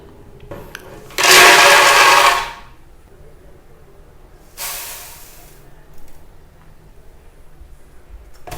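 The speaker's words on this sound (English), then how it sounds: "So I am going to process this in the high speed blender for whatever length of time it takes." A high-speed blender whirs through homemade peanut butter ingredients in two bursts: a loud, sustained roaring run of about a second and a half, then a shorter, fainter spin a couple of seconds later, with quiet gaps around them.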